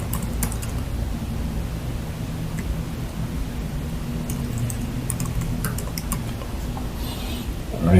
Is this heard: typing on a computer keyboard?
yes